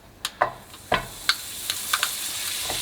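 Butter for a white sauce sizzling in a pan, soft crackles and scattered pops over a quiet hiss, with a few sharper clicks of stirring.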